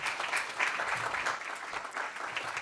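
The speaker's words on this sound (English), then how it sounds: "Once again, a huge round of applause." An audience at a Bombay Chamber Foundation Day event gives a steady, sustained round of applause, many hands clapping together for the full stretch at moderate loudness.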